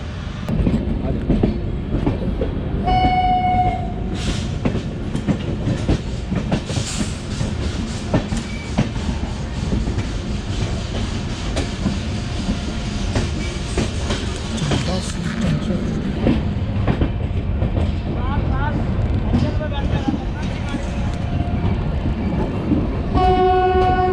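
The Purnagiri Jan Shatabdi Express runs between Moradabad, Bareilly and Pilibhit with a steady loud rumble and clickety-clack of wheels on the track, and short horn blasts near the start and end.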